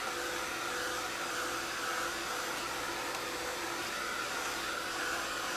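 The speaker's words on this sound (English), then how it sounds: "So, we're going to dry." A hair dryer blows continuously over a muslin art journal, a steady broadband whoosh with constant even loudness throughout and no talking.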